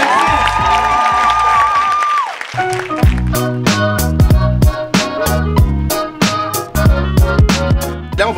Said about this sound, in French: Je vous demande de raccompagner les artistes avec vos applaudissements.